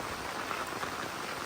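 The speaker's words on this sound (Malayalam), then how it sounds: "നല്ല മഴ" Heavy rain falling outdoors in a rural area beside paddy fields, a dense, even hiss of drops heard close and without pause.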